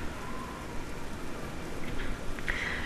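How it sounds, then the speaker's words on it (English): Steady rain pouring in a dark, stormy video game setting, a dense hiss of drops drumming continuously at moderate loudness with no voices. "rain falls endlessly like tears of misery from a stricken child"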